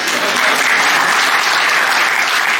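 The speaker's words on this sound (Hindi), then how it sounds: "आप चाहे तो इस पे ताली बजवा सकते हैं" Audience applause at a retirement function for two teachers, a dense, steady clapping from a crowd holding at full level for the whole stretch with no break.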